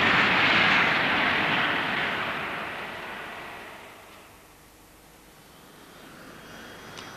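Piston Provost training aircraft with its engine droning steadily, loud at first then fading lower and rumbling on alone in the background.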